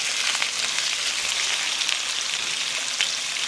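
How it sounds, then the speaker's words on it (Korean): Potatoes and onion stir-frying in a pan give a steady, close, dense sizzle with faint crackles throughout, with no talking. "이렇게 감자를 충분히 볶아야 나중에 부서지지 않아요."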